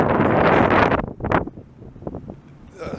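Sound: wind blowing into the microphone outdoors

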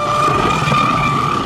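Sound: Pro Boat Blackjack 8S RC boat at full throttle

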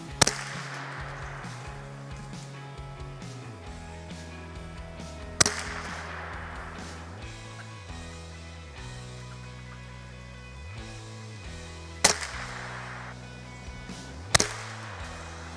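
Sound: gunshot while squirrel hunting

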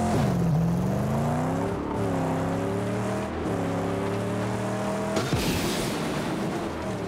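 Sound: nitrous boost of a car in the video game Mad Max

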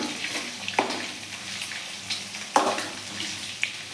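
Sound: egg frying in oil on low flame

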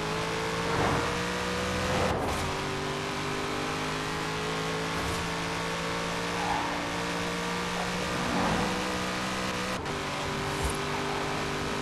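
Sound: car engine in Forza Horizon 4 video game

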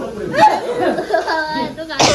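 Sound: cough

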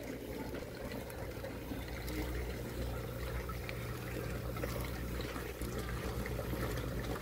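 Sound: plastic bag of tilapia fingerlings being opened in water

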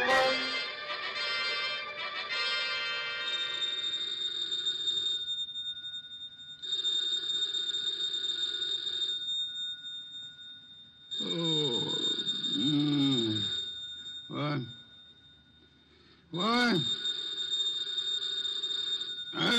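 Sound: telephone ringing

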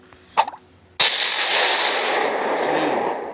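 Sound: suicide bomb explosion in a video game

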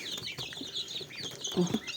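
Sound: chickens and roosters clucking

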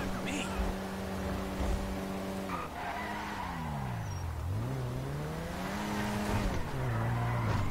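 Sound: car driving in video game Grand Theft Auto V

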